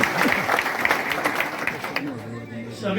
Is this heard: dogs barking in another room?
no